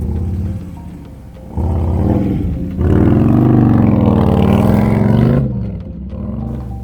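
Harley-Davidson motorcycles rumble and rev as the group rides out toward West Yellowstone, engines swelling loud and close in the middle before easing back, with no voices.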